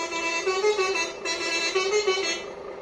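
Telolet-style musical horn on a miniature RC bus, a sustained multi-tone toot lasting about three seconds with a brief dip near the middle, steady and fairly loud, heard alone.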